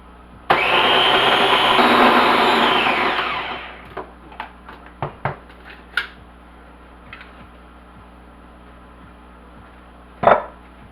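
An electric mixer whirs loudly for about three seconds while mixing egg yolk into chocolate walnut tart batter, then winds down, followed by scattered taps and knocks and one final sharp clack.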